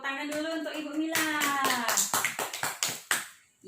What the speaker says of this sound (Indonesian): Tepuk tangan dulu untuk Ibu Mila